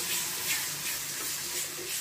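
Mustard paste with garlic, ginger, chili, turmeric, salt and coriander powder frying in oil over low heat, a steady soft hiss and sizzle with no voices.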